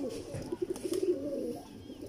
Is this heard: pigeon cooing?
yes